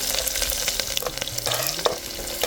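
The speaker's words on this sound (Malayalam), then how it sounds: "ഇനി നമുക്ക് കുറച്ച് എണ്ണ ഒഴിച്ചിട്ട് കടുക് ഒന്ന് പൊട്ടിക്കാം." Mustard seeds and a few dried chillies splutter in hot oil for an orange peel curry, a dense, close crackle and sizzle with quick popping bursts over a continuous hiss.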